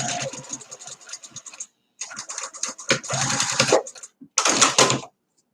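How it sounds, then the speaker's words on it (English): A sewing machine stitches across the end of a piece of fabric in several short bursts split by brief pauses, close and fairly loud. "I'm only stitching a little bit on one end, leaving that center open."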